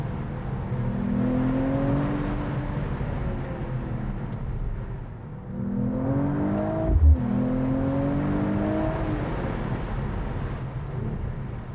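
A Mercedes-AMG CLE 53 coupe engine drones and rises in pitch as it accelerates through gears, with a brief dip and thump between surges where a missed shift bogs it down, heard from inside.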